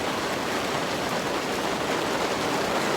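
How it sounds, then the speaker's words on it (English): Light rain falls on a wet morning, a steady, even hiss that never changes and sits at moderate loudness with no voices. "it's raining a little bit"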